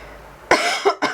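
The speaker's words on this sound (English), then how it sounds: "COVID cough." A person with a COVID cough coughs near a painting table, a sharp loud burst followed by two shorter coughs in quick succession, close and alone with no talk.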